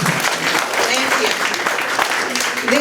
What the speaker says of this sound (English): I want to give a warm welcoming applaud for both of them.